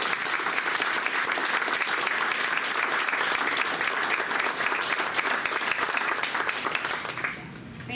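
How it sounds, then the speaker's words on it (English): Warm, steady applause from the audience at an artist talk for Curt LaCross, a full continuous clapping that lasts about seven seconds before dropping off abruptly. "let's give Curt a round of applause."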